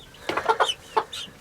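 Chickens cluck in a quick run of short, close calls, four or five bursts in a row with a brief pause before a last call.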